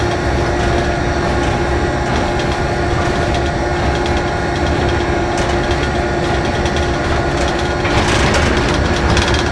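A train rolls through a station on a curve in hilly country, a steady loud rumble of wheels and carriages with a constant high whine, growing briefly harsher near the end.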